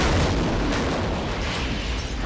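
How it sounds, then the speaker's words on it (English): Car gas tank exploding after being shot with bullets on an outdoor range, a loud sustained roaring blast that fills the whole moment and slowly tapers, with no voices. "the exploding gas tank that we did"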